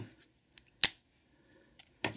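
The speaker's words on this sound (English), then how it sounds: "I have my scissors. My trusty green scissors." Green scissors snip several times in short, crisp bursts, with a few quick clicks and then a louder final cut, close by in a quiet room with no talking.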